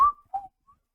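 A person whistles in imitation of a stage magician's trick flourish: a loud rising tone followed by a shorter dipping one and a faint final peep, all within a second and with no talking.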